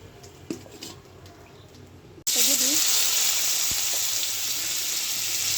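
Onions frying in a pan for a Bengali egg-and-potato curry: after a quieter stretch with a brief faint voice, a loud, steady, close sizzle bursts in and holds to the end.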